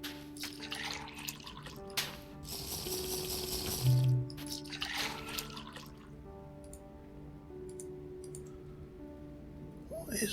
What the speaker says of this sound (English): I just wanted to get a little sip of water